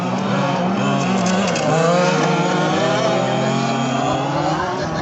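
A 1/5 scale on-road RC car's small engine revs up and accelerates around a speedway during a race, a buzzing whine rising in pitch, with faint commentary underneath.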